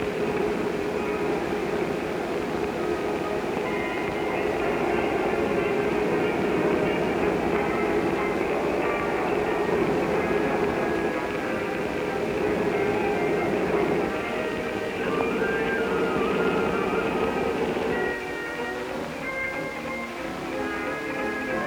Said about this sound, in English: the conductor, receiving the waybills and his orders, gives the engineer the go-ahead by radio, and soon the train begins to roll